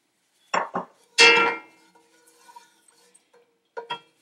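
A spoon stirs chicken karahi in a non-stick pot, giving a few short, close scraping clinks against the pan before the kitchen falls quiet.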